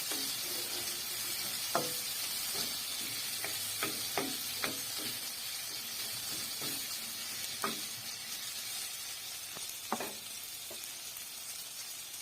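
Meat fries in oil with a low, continuous sizzle broken by occasional clicks and scrapes of stirring, all fairly quiet and with no voices.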